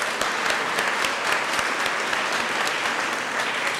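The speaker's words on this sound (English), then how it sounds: "So let's give yourself a round of applause" A large audience of several hundred at a 2010 community college College Day celebration gives itself a round of applause: loud, sustained clapping with sharp individual claps standing out, no speech.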